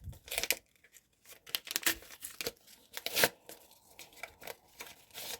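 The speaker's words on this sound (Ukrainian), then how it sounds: "Як легко відкрився пакетик" Crisp crinkling and tearing of a paper packet, several short ripping bursts separated by brief pauses, close and fairly quiet.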